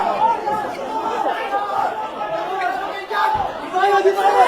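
A crowd chatters and shouts inside the Philippine Senate after gunshots, with many overlapping voices forming a steady, fairly loud din.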